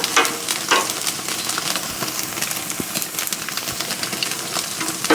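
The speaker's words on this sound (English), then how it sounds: "I'm going to leave that one some more in the fire and flip these over" Thick slab bacon sizzles steadily over a grill fire, a close, continuous crackling fry with scattered sharper pops and no voices.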